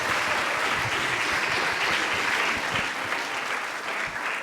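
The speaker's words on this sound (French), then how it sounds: "il faut l'applaudir" Sustained, even applause from a seated audience at a French talk on the sea, a broad wash of many clapping hands that stays at a steady level throughout.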